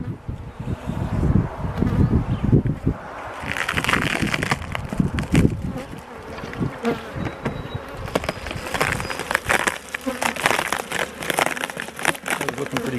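Honey bees buzz steadily from an open hive during a beekeeper's inspection in Alberta, a dense insect drone close to the microphone with some rustling and handling noise.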